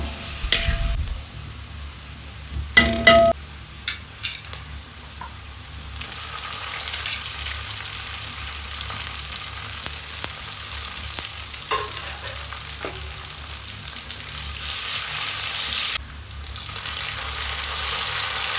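Chopped carrot and cashew nuts fry in a pan for chicken biryani, a continuous close sizzle broken by bursts of stirring and scraping clatter. Nobody talks.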